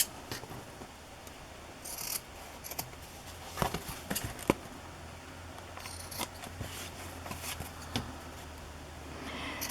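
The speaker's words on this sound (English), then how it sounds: "Now I can trim the edges, the ends." Scissors trim the edges of a vintage junk journal cover: a series of short, crisp snips and paper rustles, some close and sharp, spread over a quiet background with no speech.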